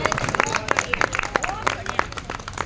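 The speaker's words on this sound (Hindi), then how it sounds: "जोरदार तालियां।" Bursts of audience clapping at a Holi Milan and Women's Day performance gathering, sharp scattered claps mixed with cheering and overlapping voices close by.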